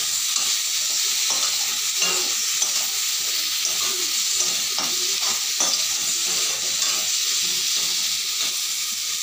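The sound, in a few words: stirring sugar caramel in a pan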